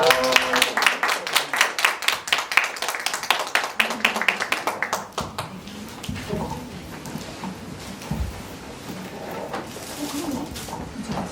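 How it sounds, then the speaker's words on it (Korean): A small audience welcomes a guest lecturer with sharp, rhythmic, closely spaced claps for about five seconds. Quieter room noise and shuffling follow. "박수로 환영하시겠습니다"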